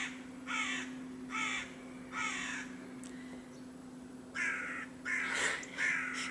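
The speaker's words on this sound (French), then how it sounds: "Ça va être les corbeaux aujourd'hui, pas les ambulances, ni le train." Crows caw repeatedly outdoors, several harsh calls in clusters at a moderate distance over a faint steady hum, with no talking.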